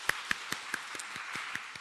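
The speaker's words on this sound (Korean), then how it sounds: "우리 새노래 찬양단에게 우리 박수하겠습니다." A church congregation claps for the afternoon worship choir: a sparse run of distinct, fairly quiet hand claps at an even pace, about one every quarter second, with little else around them.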